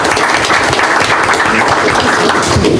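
Clapping from the audience at a February 2023 school board meeting honouring staff members; a short, loud burst of many hands clapping close by, steady for the whole moment.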